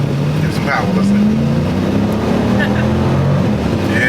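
Dodge Durango SRT 392 V8 engine revving, a loud, steady, rumbling drone that rises in pitch and then settles, recorded close by, with people talking over it.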